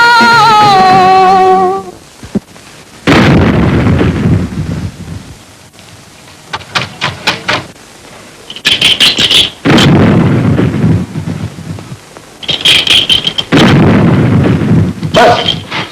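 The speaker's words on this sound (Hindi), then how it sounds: "तोपें तो कोसों दूर चल रही हैं। लेकिन आवाजें तो आ रही हैं।" Distant cannon fire in a 1940s Hindi period film soundtrack, heavy rumbling booms arriving in several separate rolling bursts, loud and reverberant, after a brief sung musical tone at the start.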